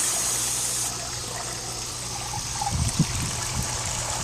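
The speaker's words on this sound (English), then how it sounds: "the water's going to hopefully start to flow" Water flows in a backyard garden waterfall as its pump is switched on, a steady close rushing trickle with a few gurgles and splashes building up partway through.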